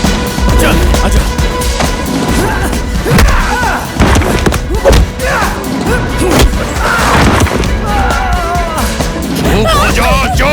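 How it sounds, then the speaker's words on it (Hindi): Fight scene in a Nepali action movie dubbed in Hindi, men beating someone, with loud repeated thuds and crashes mixed with shouting voices and music. "ऊपर पंडित जी के लोग अर्जुन भैया को मार रहे हैं।"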